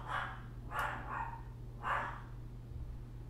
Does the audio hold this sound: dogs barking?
yes